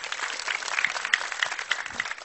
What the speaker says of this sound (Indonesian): Kita beri tepuk tangan yang meriah untuk Joshua.